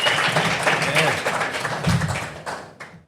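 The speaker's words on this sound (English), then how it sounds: "Round of applause for Todd" An audience at a live podcast recording in a tavern applauds for Todd, with a burst of dense clapping and scattered taps under talking voices that thins out and fades after a couple of seconds.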